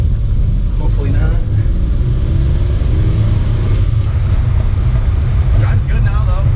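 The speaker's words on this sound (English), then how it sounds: "Go for a drive in the mini truck" A kei mini truck driving along, a constant close engine rumble and road drone with some faint whining shifts, steady throughout.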